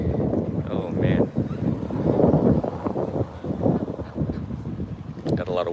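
Wind blows hard across an outdoor microphone, giving a loud, continuous rumbling buffet that surges and eases throughout.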